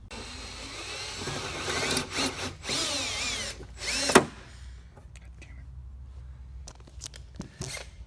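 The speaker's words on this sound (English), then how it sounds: "So he has to drill it out and pull it out now and try again." A power drill whines in several bursts up close, drilling out a rivet while fitting overfenders to a BMW E36, the loudest near the middle, then trails off into quieter scattered clicks and taps.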